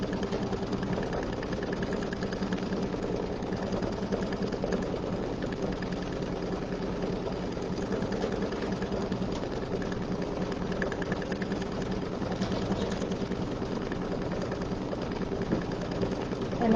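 An embroidery machine stitches fabric with a steady, fast mechanical whir and rhythmic chatter, continuous and moderately quiet throughout, with no talking.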